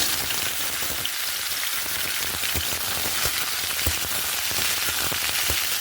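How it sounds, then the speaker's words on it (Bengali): Chopped taro stolons sizzle loudly in hot oil in a wok, a steady crackling hiss broken by scattered sharp pops and spatters. "কড়াইতে একটু তেল দিয়েছিলাম, তেলটাও গরম হয়ে গেছে। এর মধ্যে দিয়ে দেবো কেটে ধুয়ে রাখা লতি।"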